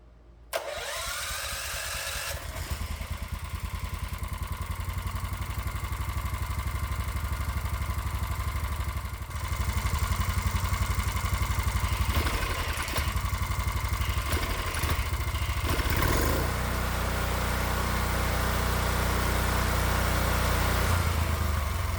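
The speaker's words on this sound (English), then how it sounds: "I can tell that the engine's running slightly lean" A small 212 cc Predator gasoline engine, running slightly lean, sputters to life and then runs steadily with a rough, continuous drone, loud and close, its tone wavering slightly throughout.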